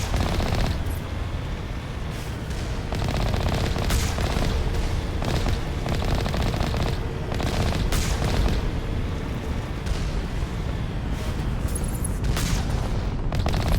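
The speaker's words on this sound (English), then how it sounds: "Alliance turrets don't mess around." Heavy sci-fi turret gunfire from Alliance turrets in the Mass Effect video game, a continuous loud barrage of booming, rumbling blasts and rapid shots throughout, with no talking.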